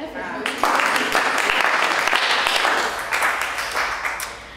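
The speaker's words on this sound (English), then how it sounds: "Everyone round of applause with Danya for hosting." A virtual business event audience applauds a host, a dense burst of clapping that starts abruptly and holds steady for a few seconds before thinning out.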